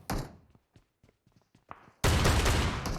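PUBG Mobile gunfire on the Livik map: a short blast at the start, a few faint thuds, then a loud, dense burst of rapid shots filling the last second.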